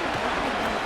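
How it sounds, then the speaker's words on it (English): Stadium crowd noise from a Madden NFL 25 football game, a dense, steady roar of cheering fans swelling ahead of a 3rd-and-long play, loud and continuous without a break. "The crowd cranking it up another notch before 3rd and long."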